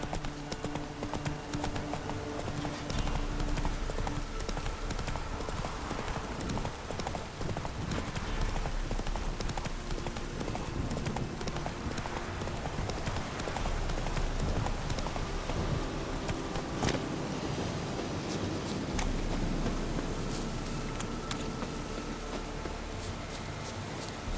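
Roach, a horse in The Witcher 3, gallops with continuous rhythmic hoof clip-clops over a dense game soundscape, steady and fairly close.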